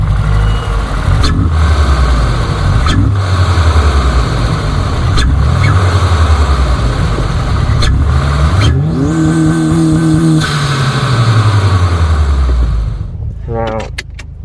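Engine and intake of a 2018 Subaru WRX with a Stage 1+ tune, loud and close, rising and falling through repeated revs and gear changes, with a brief voice near the end.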